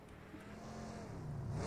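Car engine in PUBG on the Erangel map, a steady motor hum that rises in pitch as it revs and accelerates, fairly close and continuous over about two seconds.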